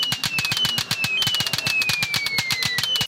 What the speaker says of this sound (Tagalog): Isa na dito ang electronic firecrackers.